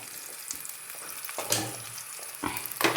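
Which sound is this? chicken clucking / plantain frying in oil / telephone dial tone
plantain frying in oil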